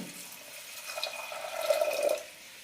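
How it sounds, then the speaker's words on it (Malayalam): Water is poured into a pot of soaked green peas, making a short, soft splashing stream that swells briefly and then stops, faint and close with no voices. "പട്ടാണി മുങ്ങത്തക്ക വിധം വെള്ളം ഒഴിക്കാം"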